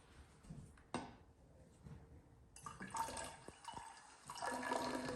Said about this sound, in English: If I pour more vinegar in here